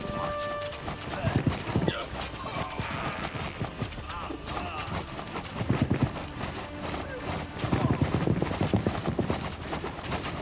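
Cavalry hooves clatter in the strategy game Citadelum, a dense rapid clip-clop of many horses swelling and fading in waves, loud and close, with someone talking over it.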